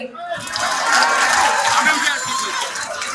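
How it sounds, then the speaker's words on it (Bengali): A crowd applauds at a BNP founding anniversary rally in Kushtia, a broad, sustained clapping swell that stays moderately loud throughout, with faint murmurs and scattered chuckles mixed in. "আমি বলবো এখানে যারা জনগণ আছেন তাদের উদ্দেশ্যে একটা জোরে করতালি"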